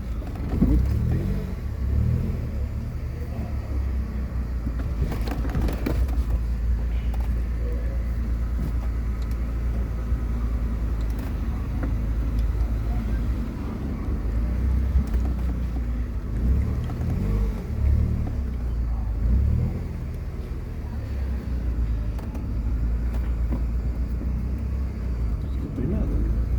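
Mercedes-Benz A-Class A160 driving, with a steady low engine and road rumble throughout, heard from inside the cabin while people talk in Portuguese over it.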